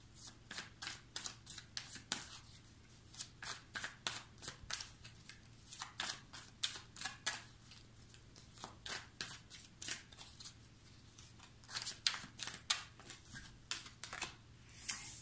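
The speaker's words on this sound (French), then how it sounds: "je vais vous tirer 3 cartes pour les énergies principales pour vous" Tarot cards are shuffled and drawn by hand, producing a close, quiet series of crisp riffling flutters and soft snaps in an irregular rhythm, with no talking.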